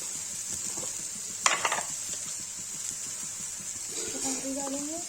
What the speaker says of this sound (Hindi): इधर आलू फ्राई हो गया है